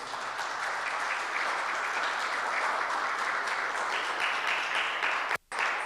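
Steady, dense audience applause fills the room at a launch event, even and continuous before cutting off abruptly near the end.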